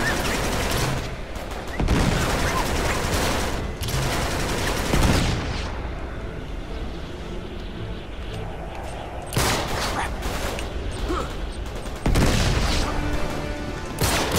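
Uncharted 3 firefight: several loud bursts of close gunfire and impacts, separated by quieter stretches of background game noise, with no one talking.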